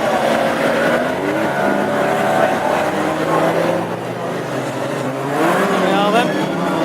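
Classic hot rod race cars power away from the green flag at a Northampton heat, with a loud, continuous roar of engines revving and accelerating close by, under excited commentary.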